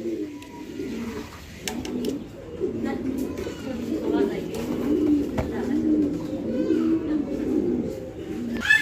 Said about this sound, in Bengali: এখানে আরো এক জোড়া কবুতর আছে, আর এইটা হচ্ছে আপনার অ্যান্ডালুজিয়ান কালারের মুন্ডিয়ান কবুতর একটা জোড়া।